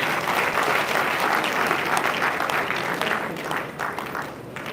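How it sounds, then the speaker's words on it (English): An audience at a university town hall meeting applauds the Vice Chancellor, dense sustained clapping from many hands that gradually thins toward the end. "Please a round of applause to the Vice Chancellor."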